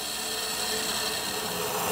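A wooden bat spins on a wood lathe while a turning tool cuts the taper, making a steady, close scraping hiss with no voices.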